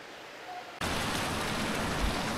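Badaghagara Waterfall in Keonjhar: a steady, dense roar of rushing water that swells in abruptly and stays loud and constant throughout.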